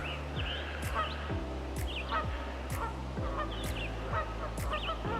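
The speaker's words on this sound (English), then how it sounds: "Here we have some geese out there singing for us." Geese honk out on a lake on a calm morning, a handful of calls spaced every second or so, fairly near and loud over a steady low rumble and faint chirping songbirds.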